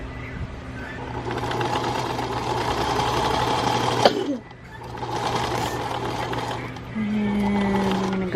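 A sewing machine stitches a mitered corner on a quilt, a steady close mechanical whir that pauses briefly midway and then resumes.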